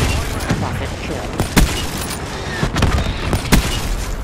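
Explosions and gunfire in a Black Ops 3 multiplayer match on Nuketown, several sharp booms in quick succession standing out over continuous firing and background game noise.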